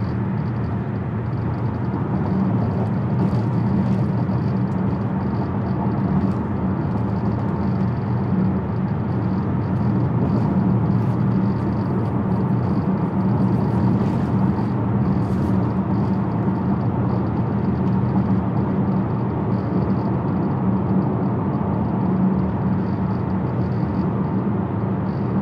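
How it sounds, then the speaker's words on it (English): Road noise inside a Mazda CX-50 2.5T AWD driving over a bumpy road, a steady broad rumble and hiss throughout with faint occasional knocks, no talk. "this road has a little bit of bumps on it, so hopefully you'll be able to tell the difference here as far as the noise"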